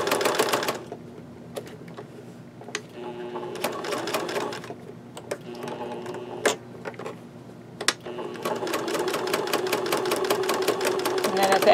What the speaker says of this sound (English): I'm going to stitch all the way around the edge of the label